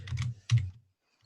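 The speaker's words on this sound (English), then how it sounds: "Somebody's fairly certain the way they were thumping that keyboard" A few quick, heavy keystrokes on a computer keyboard: two clustered taps, then one sharp thump, followed by silence.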